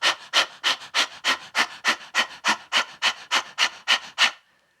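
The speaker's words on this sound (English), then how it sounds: "If you try panting like a dog, very glamorous." A person pants like a dog with tongue out, about fourteen quick, even, breathy huffs in steady rhythm, close and clear, then stops.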